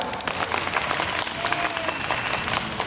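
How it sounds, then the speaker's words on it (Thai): Audience applause at a cosplay contest event, a dense, steady wash of many hands clapping throughout with crowd noise mixed in. "ขอเสียงปรบมือให้หน่อยครับ"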